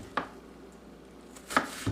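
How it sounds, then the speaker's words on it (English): A knife finely dicing apple for salad on a cutting board, heard as a few sharp, close chopping taps, one early and a quick pair near the end, with quiet pauses between. "I'll dice up finely."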